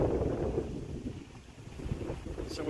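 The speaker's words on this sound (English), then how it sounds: "It's a little windy." Steady gusting wind buffets the microphone with a low rumble, rising and falling over a couple of seconds, in northern New York, no voices.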